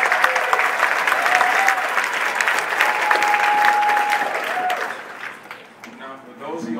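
A political rally crowd gives loud, sustained applause with cheering mixed in, filling the space before it drops off near the end, when a voice starts speaking.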